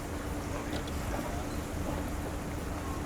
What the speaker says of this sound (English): Francesco is maintaining the boat's movement using the engines.